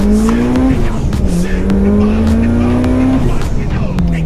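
A loud turbocharged Mitsubishi Lancer Evo 9 or Subaru WRX STI engine warms up, droning and revving steadily at close range, its pitch rising slowly then dropping, with rough mechanical noise and occasional voices under it.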